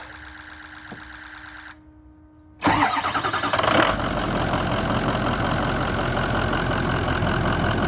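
A Ford F250 with the 6.0 diesel engine cranks briefly, fires and catches, settling into a loud, steady rumbling idle up close.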